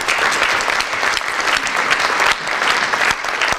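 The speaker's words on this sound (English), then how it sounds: "Please give those folks a round of applause." An audience at an Alberta annual workplace conference gives a round of hearty applause, steady and full for several seconds without speech over it.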